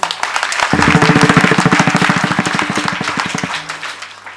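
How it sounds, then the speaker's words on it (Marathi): An audience at a Marathi kirtan claps together in a fast, steady rhythm. The loud, close clapping builds quickly, holds for about three seconds and then fades away. "एकदा सर्वांनी टाळी वाजवा"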